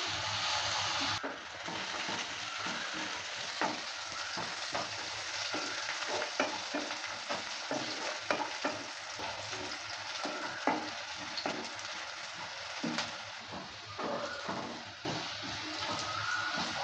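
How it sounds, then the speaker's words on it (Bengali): Chopped onion and garlic fry steadily in a pan with a soft, continuous sizzle, broken by frequent stirring scrapes and clicks, heard alone without talk. "এবার কিছুক্ষণ সময় নিয়ে ভালো করে ভেজে নেব, যতক্ষণ কালারটা চেঞ্জ না হয় ততক্ষণ অবধি।"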